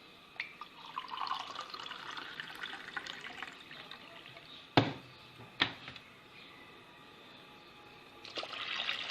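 Water trickles and splashes steadily into a vessel, with a couple of sharp knocks partway through and the flow picking up again near the end.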